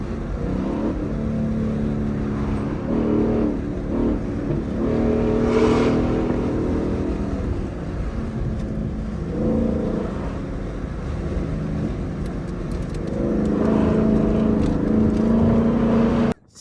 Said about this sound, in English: This M5 sounds spicy.